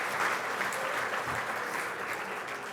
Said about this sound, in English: let's give that Moonstar a big round of applause for being so supportive